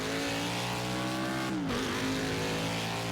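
A NASCAR stock car at Watkins Glen in Project Cars 2 screams along at a loud, sustained engine whine, the pitch dropping sharply for a downshift before climbing again, heard up close with no talk.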